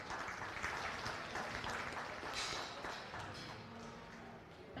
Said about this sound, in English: Let's give that young man a big round of applause.